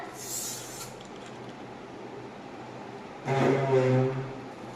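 Soda poured into a summer sharbat with sabja seeds in a bowl, a short loud fizzing hiss near the end after a quieter stretch of faint background noise.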